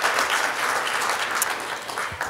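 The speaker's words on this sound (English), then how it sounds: "So that's even a bigger applause." Audience at a lecture on breakthrough technologies breaking into applause, a steady broad wash of clapping, moderately loud and alone.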